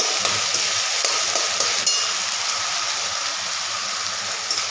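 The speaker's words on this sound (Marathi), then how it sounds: "मी हा सगळा मसाला आता त्याच्यात काढून व्यवस्थित परतून घेणार" Ground masala sautéing in hot oil for Punjabi-style chole gives a steady, close sizzle and crackle, with faint scraping stirs now and then and no talking.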